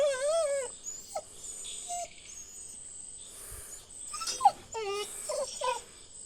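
A dog whimpers at night in a few short, high, wavering cries spaced across the stretch, with crickets chirring steadily underneath. No one talks.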